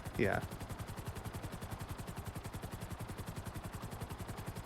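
A video game helicopter gives a rapid, steady rotor chop throughout, moderately quiet, with a short voice-like sweep at the start.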